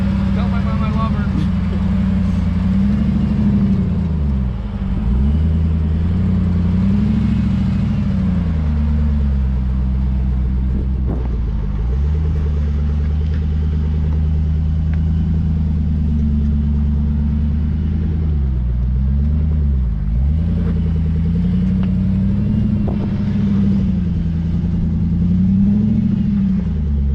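An off-road vehicle's engine climbs a slope of white sandy, sandpaper-like rock in Arizona, a steady close rumble with rising and falling revs throughout.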